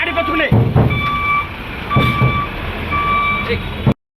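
A reversing vehicle beeps at a steady rhythm, loud and close, over a continuous engine rumble, while several people shout and talk nearby.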